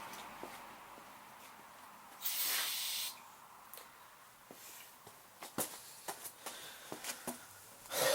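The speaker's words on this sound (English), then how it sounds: "Oh boy, brake clean's going everywhere." Brake cleaner sprays from an aerosol can into the carburetor of a Troy-Bilt TB160 lawnmower with a Honda engine. One sustained hiss-burst lasts about a second, followed by several short, sharp spurts and clicks, close and fairly quiet.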